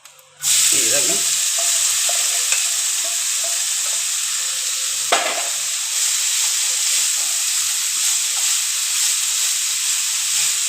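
Mustard seeds, urad dal and dried red chilies frying in hot oil for papaya thoran, a sudden loud sizzle bursting in and holding as a dense continuous hiss, with a brief stirring clatter partway through.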